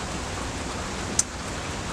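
Steady rain falls outdoors as a constant close hiss, with one brief tick from a single drop.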